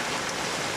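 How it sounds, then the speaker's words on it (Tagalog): Steady, close rain pours down in an even, continuous wash of noise with no talking. "hindi kami makakalis kasi umuulan"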